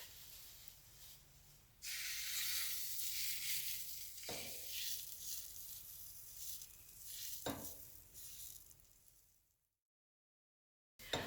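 Chaffle batter sizzles steadily on the hot plates of a waffle maker, a close, even hiss with a couple of soft clicks, running alone for several seconds before fading to silence.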